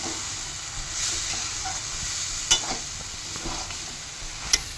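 Pumpkin curry with coconut being stirred in a pan, a soft steady sizzle with scraping stirs and a couple of sharp clinks of utensil against the pan.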